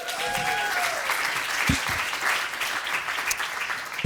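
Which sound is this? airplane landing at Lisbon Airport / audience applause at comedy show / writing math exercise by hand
audience applause at comedy show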